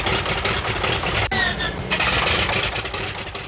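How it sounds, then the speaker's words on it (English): A carrier aircraft's propeller engine starting up on deck, a loud continuous roar with a sharp crack near the start, heard close and alone with no talk. "Start engine."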